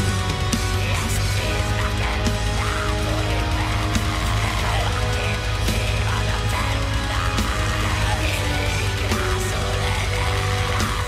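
Metal track by a Czech band, heard in a game's credits, with harsh vocal lines over dense, loud distorted instruments and steady low rhythm, playing continuously.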